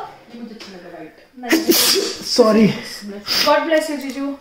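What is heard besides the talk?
sneeze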